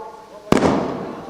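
A single loud firecracker burst goes off near a political rally, with a sharp crack followed by a fading crackle over low crowd noise.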